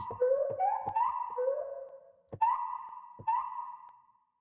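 Gliding synth lead notes with a wailing, whale-like cry, in short sliding phrases with clicky attacks, separated by brief pauses.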